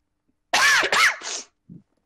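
A single loud, close sneeze bursts out in two sharp explosive pulses with a trailing exhale, followed by a faint short sound, with no talking during it.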